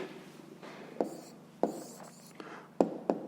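Pen writing down the answer to a fifth-grade math exercise on paper, quiet close scratching with a few sharp taps as strokes and dots land.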